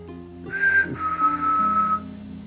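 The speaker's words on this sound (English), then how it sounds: "You're going to whistle the same way as I whistle" A person whistles back in a steady, clear tone, one short note rising into a longer sustained note, heard close and alone over a faint background hum, during a paranormal investigation in a medical office.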